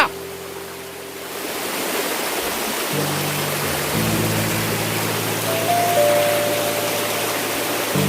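Water pouring down Raikal waterfall near Warangal, a steady, loud rushing roar that runs unbroken throughout, with no one talking.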